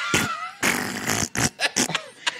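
A man vocally imitates a grunting fart, producing several close, loud, sputtering bursts with brief gaps between them, alone without other talk.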